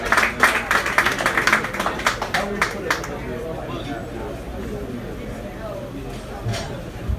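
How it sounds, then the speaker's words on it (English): Audience at a live comedy show claps for a comedian, dense applause strongest in the first three seconds and then thinning into softer clapping and crowd murmur. "I want y'all to clap your hands for Lamont King"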